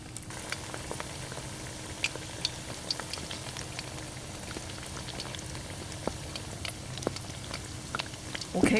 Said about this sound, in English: I'm going to put it in deep fry over there. And for 350 degrees. And you deep fry it until it turns brown.